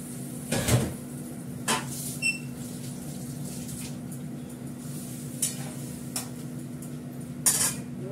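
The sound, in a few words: covering a pot of fish curry with a lid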